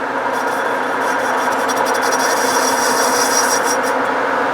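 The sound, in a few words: lathe facing off a pulley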